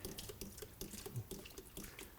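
Water from a siphon rinsing down the inside of a tank, heard as soft repeated splashes and drips in an uneven rhythm, quiet and close, with no talking.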